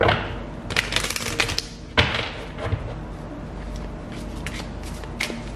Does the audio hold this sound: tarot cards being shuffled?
yes